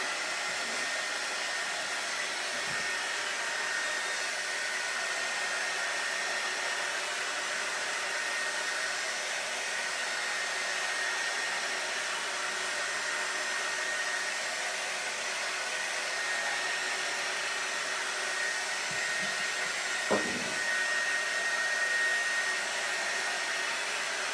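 A heat tool blows steadily on a decoupaged blue-and-white oyster shell, a constant airy whoosh at moderate level that runs unbroken throughout, with a couple of faint bumps and no talking.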